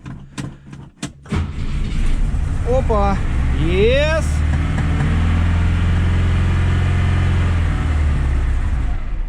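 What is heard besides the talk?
old ZAZ-968 Zaporozhets car engine starting and running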